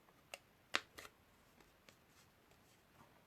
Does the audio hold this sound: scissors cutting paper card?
yes